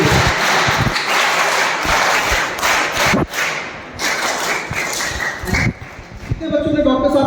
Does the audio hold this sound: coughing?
no